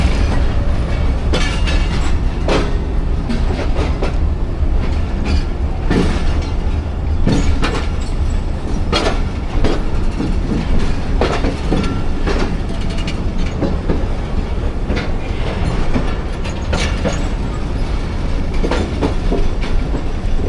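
A passenger train, the Jaffar Express hauled by locomotive GU20 4568 bound for Lahore, rolls past loud and close with steady rumbling and rhythmic clickety-clack of wheels over rail joints throughout.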